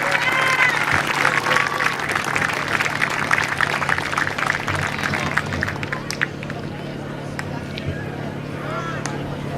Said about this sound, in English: I want one more round of applause for all the coaches that are helping these managers out there